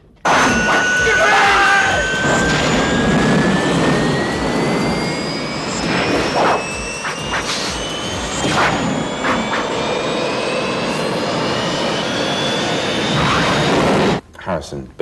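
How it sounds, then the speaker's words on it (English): A jet airliner's engines roar loudly and continuously, with rising whines sweeping upward as the plane goes out of control in a film scene. The engine noise is close and dominant and cuts off sharply near the end. "The plane's going out of control."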